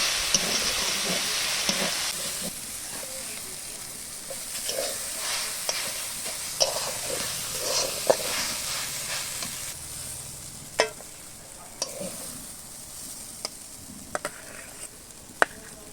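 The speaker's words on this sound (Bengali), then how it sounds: "এই যে আমার কলমি শাক ভাজা হয়ে গেল।" Water spinach (kalmi shak) stir-fries with onion in oil in a wok, a steady close sizzle running throughout with scattered sharp scrapes and clinks of a spatula stirring, no voices.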